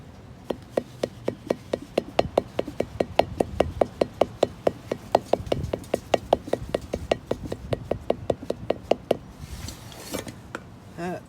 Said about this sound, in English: Then you get your good old piece of wood and your mallet.